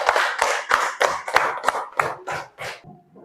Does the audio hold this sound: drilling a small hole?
no